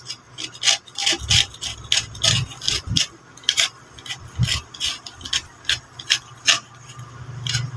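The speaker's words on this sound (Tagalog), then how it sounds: "Dito kuskusin natin ito para malinis." Someone scrubs a rusty part from a D12 speaker clean during a cone and spider repair. The rough rubbing strokes come close and loud in an uneven back-and-forth rhythm, with no voices.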